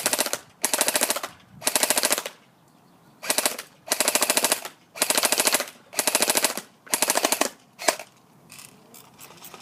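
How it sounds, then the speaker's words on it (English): An SRC G36C airsoft gun with its stock folded fires in rapid bursts, about seven close, loud strings of shots separated by brief pauses. "I'm going to fold the stock and take some shots from standing up to see how accurate it is with the stock folded"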